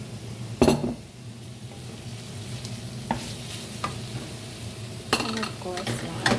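Pancit canton noodles stir-fried with oyster sauce in a pan, a steady loud sizzle under scraping and clinking utensil strokes against the pan, close up, with no voices.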